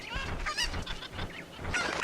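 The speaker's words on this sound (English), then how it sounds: "Another chicken." A Cucco chicken in Zelda: Ocarina of Time gives a short run of squawking, honking clucks in quick, uneven bursts, close and fairly faint, with no voices.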